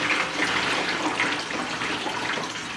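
Juice pours steadily into a cider fermenter, a continuous close splashing gush of liquid without pause or speech.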